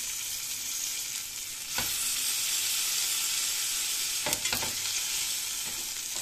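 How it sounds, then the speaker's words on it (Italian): Salami browning in a frying pan gives a loud, continuous close-up sizzle with a bright hiss, broken by a few short scraping stirs. "vedete che la padella è bella scura perché abbiamo rosolato la nostra salamina"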